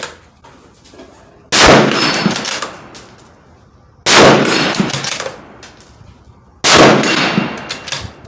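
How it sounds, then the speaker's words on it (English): Three sharp Tikka T3X Lite rifle shots at a steel gong 100 yards downrange, each a loud crack with a ringing metallic tail, spaced about two and a half seconds apart. "I just heard the ding down range."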